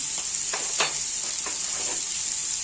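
Spicy garlic mushrooms frying in a pan with tomato chilli sauce, pepper and salt, a steady bright hiss with a few soft scraping strokes of stirring, close and alone, no voices.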